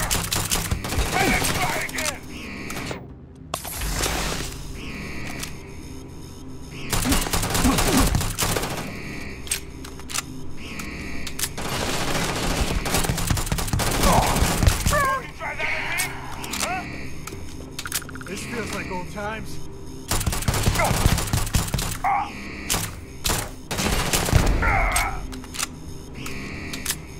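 Rapid bursts of gunfire from the space game Starfield crack in repeated volleys, with someone talking between and over the shots.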